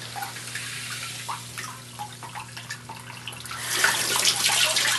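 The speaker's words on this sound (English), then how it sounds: "Now the water is expelled over the control head." Water drips and trickles from a Bedrock Buster gold-prospecting tube, then gushes out over its control head in a louder splashing rush toward the end.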